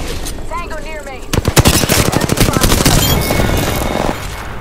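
Rapid automatic gunfire in a shooter video game: a dense burst of shots rattles loudly for about three seconds, with a voice heard just before the burst.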